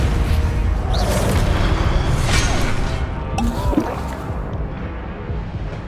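Depulso spell cast in Hogwarts Legacy, a continuous rushing, booming blast with crashing bursts over busy game noise, sustained and loud throughout.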